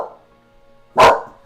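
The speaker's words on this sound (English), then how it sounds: "My dog is going crazy." A household dog lets out a single loud, close bark after a quieter moment with a faint earlier yelp.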